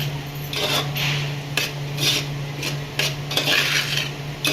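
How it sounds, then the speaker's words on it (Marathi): Tempered rice, phodnicha bhaat, being stir-fried in a pan, with loud rhythmic scraping and clinking of a spatula against the metal over a soft sizzle, close up and continuous. "असं व्यवस्थित परतून घेते मी"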